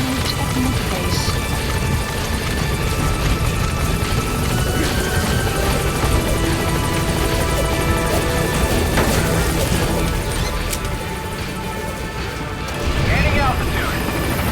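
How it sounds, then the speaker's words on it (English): Support helicopter from Metal Gear Solid 5 game, a steady loud rotor drone with engine whine filling the whole stretch, dipping briefly near the end before swelling again. "Support helicopter extraction arrived at Mother Base."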